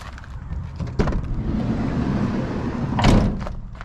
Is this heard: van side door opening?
yes